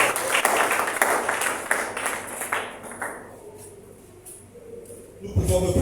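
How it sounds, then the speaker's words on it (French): A congregation at a prayer service applauds and cheers for Jesus Christ, with dense, loud clapping and shouting that fades after about three seconds before a voice speaks. "On acclame très fort pour le Seigneur"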